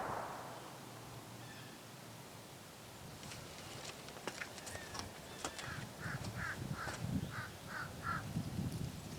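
A bird, likely a crow, calls several times in short cawing bursts at an outdoor shooting range, moderately distant over a low steady background hum.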